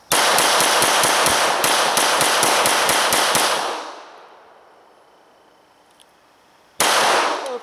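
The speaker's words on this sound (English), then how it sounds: "Let's start shooting the very, very sweet 9mm pistol by Walther." A Walther PPQ M2 9mm pistol fires a rapid string of sharp, loud shots at an outdoor range, about a dozen cracks in quick rhythm, then a pause with faint noise before another burst of shots.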